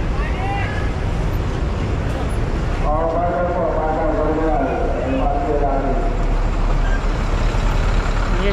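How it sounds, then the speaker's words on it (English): Buses and other traffic in San Fernando, Pampanga, make a continuous loud roar of engines and road noise, with a brief hiss like an air brake midway through. "They had all different kind of buses around this place."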